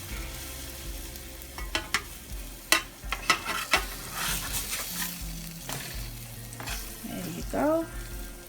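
Ghanaian tatare frying in a pan just after being flipped, with a soft steady sizzle, a few sharp scraping and tapping strokes from the turner, and brief higher squeaks near the end, up close with no talk.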